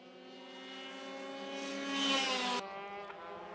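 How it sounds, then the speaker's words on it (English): Go-karts racing on a track, a high buzzing engine whine that swells louder as a kart passes close by and then drops back to a steadier drone. "These go-karts are very light and very fast. It's very exciting to watch them race."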